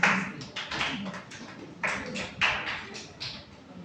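Scattered audience clapping in a gathering, a few separate bursts of claps rising and fading over a quiet room, moderately near with no talk.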